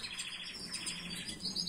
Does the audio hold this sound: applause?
no